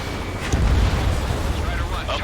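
Missile explosions in the video game Ace Combat 7 give heavy, rumbling booms with crackling debris, under a continuous roar of battle over about two seconds.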